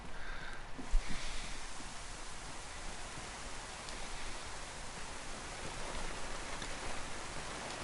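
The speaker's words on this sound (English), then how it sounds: "It's a shame that it's raining so hard." Heavy rain pours steadily in the video game DayZ on PS4, a constant hiss of drops with no other sounds.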